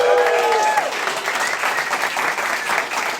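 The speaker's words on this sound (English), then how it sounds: "A big round of applause for Adele." A live podcast audience applauding a guest onto the stage, sustained dense clapping from a crowd that holds steady after a brief voice at the start.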